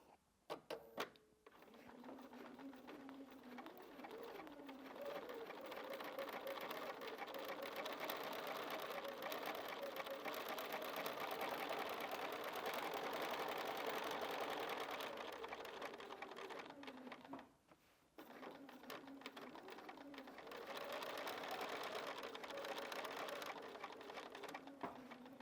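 A sewing machine with a stitch regulator does free motion quilting at 3.0 stitch length, running in a steady fast whir that pauses briefly and then resumes, close and fairly quiet.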